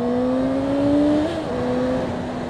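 A Yamaha FZ6R motorcycle accelerates in first gear, its engine note rising steadily in pitch with a brief dip partway through as the revs climb, loud and close with no talking.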